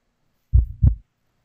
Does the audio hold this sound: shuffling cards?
no